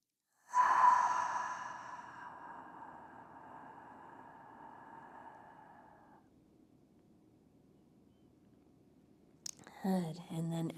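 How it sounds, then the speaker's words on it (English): A long, slow exhale during a therapeutic yoga session: one close, soft breath that starts with a breathy rush and fades gradually over several seconds. A voice begins speaking softly at the end. "Take an inhale, widening your ribs. And then long exhale."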